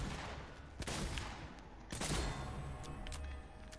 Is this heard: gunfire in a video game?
yes